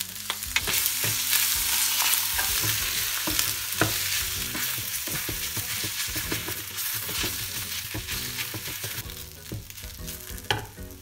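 Rice sizzles and fries in a hot pan with ketchup while being spread and stirred, a steady close crackle broken by scraping and tapping of the utensil against the pan.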